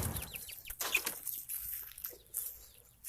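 Egg-laying hens clucking by their coop, several short overlapping calls spread through the clip at close range against steady outdoor background noise.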